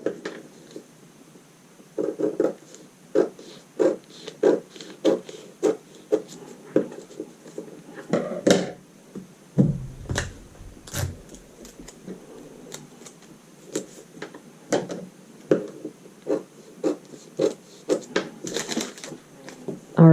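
Scissors snip along fabric seams in a steady series of sharp, close clicks and cuts, with short pauses and some handling rustle, as seam allowances are trimmed for a garment waist joining a skirt.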